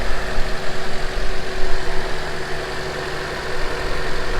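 Close, loud Honda CRX engine idling steadily after a throttle body swap, a rough, continuous mechanical drone with slight pulsing and no talk over it.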